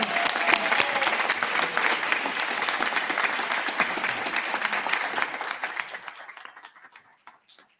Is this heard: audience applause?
yes